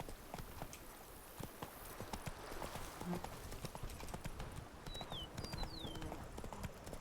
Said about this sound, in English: My magic horse.